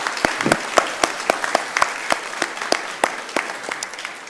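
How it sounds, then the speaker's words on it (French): A church congregation applauds a couple celebrating their golden wedding anniversary, with sparse, distinct claps that form a loose, uneven patter at moderate volume and fade slightly toward the end, with no speech over them. "nous voulons les applaudir en tout cas pour ce bel anniversaire"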